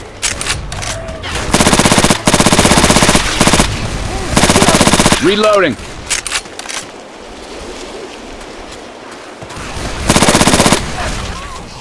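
Automatic gunfire rips out in loud, close bursts of several seconds each in Left 4 Dead 2 as players shoot mudmen in a swampy park, with water sloshing and a brief shrill cry between volleys.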